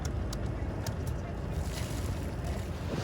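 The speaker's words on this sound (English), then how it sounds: "look at the engine on this boat. It looks like a 1962 Cortina 4-cylinder engine mounted on a swivel." The engine of a small boat, a 1962 Cortina 4-cylinder mounted on a swivel, drones in a steady low rumble close by, mixed with wind buffeting the microphone and water noise.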